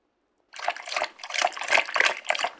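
A pet lapping water in the PK XD video game: a quick run of wet, gulping slurps and trickles starting after a short silence, close and clear with no talk.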